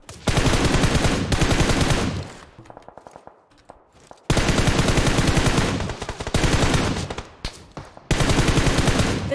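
Automatic gunfire in the mobile battle royale game PUBG Mobile, fired in several long rapid bursts separated by brief pauses, loud and close with no talk.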